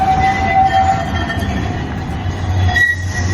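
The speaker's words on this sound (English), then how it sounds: "Sorry for the tram." An Istanbul tram rolls past close by on its rails, a loud steady rumble with high metallic wheel squeals sounding above it, and no one talking.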